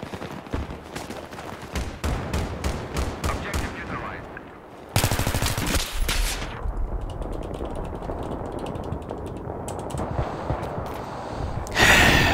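Rapid automatic gunfire in the video game Battlefield 3, with repeated loud bursts and a dense sustained volley, close and dominant, alongside mechanical game effects.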